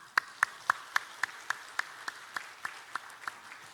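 A church congregation at a Sunday service claps in a slow, evenly spaced run of about a dozen sharp hand claps, fairly close and clear against a quiet room.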